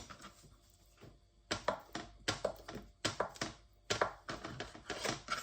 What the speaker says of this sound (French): je vais ajouter ma feta que je vais couper